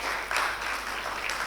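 An audience applauding during an induction programme lecture, a short, even burst of clapping from a crowd in a hall.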